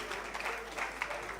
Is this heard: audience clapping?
yes